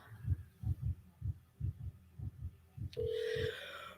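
A phone rings unanswered on a call, with faint rhythmic ring pulses repeating quietly before a brief steady tone near the end.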